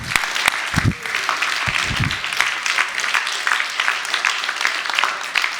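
An audience claps and cheers for the house band at a live late-afternoon stage show at the Latitude59 2023 event, steady applause with scattered whoops and a few low voices in the crowd.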